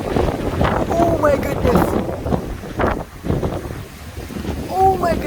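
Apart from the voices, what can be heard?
strong wind during thunderstorm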